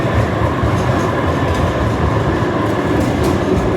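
A train rolls along the rails nearby with a steady, loud rumble and faint clickety-clack of wheels, continuous throughout with no voices.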